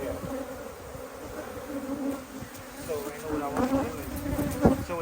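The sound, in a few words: honey bees buzzing during beehive inspection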